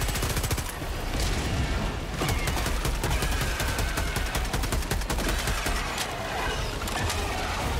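Stalwart machine gun in Helldivers 2 firing continuously for several seconds, a dense, loud rattle of rapid shots with no pause, mixed with crackling battle noise.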